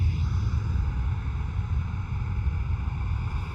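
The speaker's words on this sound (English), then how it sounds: "First 777 with the GE90 engines." A Boeing 777 with GE90 engines at Schiphol Amsterdam gives a steady, broad jet roar with a low rumbling base, holding even loudness throughout with no voices.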